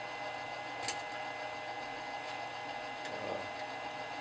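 A milling machine table is cranked over to a datum point. A steady mechanical whir and hum runs with a few faint clicks and ticks and no voice.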